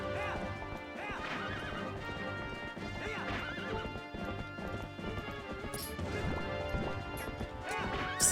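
Horse neighs and whinnies with clip-clop hooves during mounted combat in the Twilight Princess HD video game, layered under dense game music and clashing hits, continuous and fairly loud.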